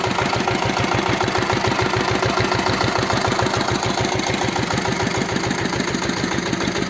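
A walk-behind tractor's small engine chugs steadily at idle with a fast, even knocking pulse, close by and loud, with no voices.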